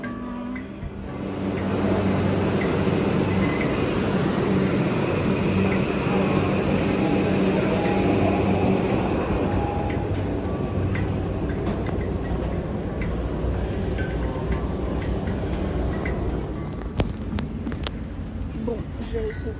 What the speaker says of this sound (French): j'ai réussi à prendre le métro pour la première fois